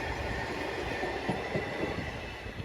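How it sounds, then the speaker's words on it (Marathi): A train passing on a rural line in Beed district, a steady loud rumble of rolling wagons with clattering wheel knocks, heard close and continuous. "गेली रेल्वे."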